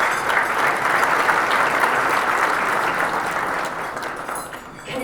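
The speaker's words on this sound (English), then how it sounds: "Please join me again for another round of applause to thank Cal Portland." Sustained applause from an audience at a town's State of the Town event honoring a cement plant team, a dense, steady clatter of clapping hands that holds strongly throughout and eases slightly near the end.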